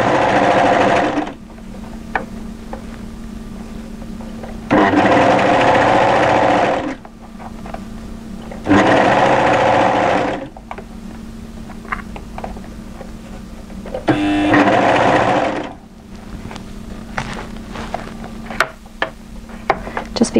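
A sewing machine stitches through three layers of sweater fabric at an underarm seam, running in repeated bursts of steady whirring a couple of seconds long, separated by quieter pauses with small clicks and handling sounds.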